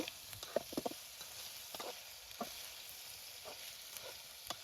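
Chicken liver fries outdoors in a pan with a soft, low sizzle, broken by scattered clicks and scrapes from stirring. The sound is faint and fairly distant, and no voices are heard.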